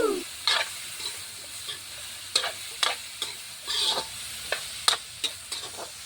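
Chicken feet frying in a pan and stirred with a utensil: a sizzle runs throughout under repeated sharp scrapes and clacks at an irregular pace, close by, with no talking.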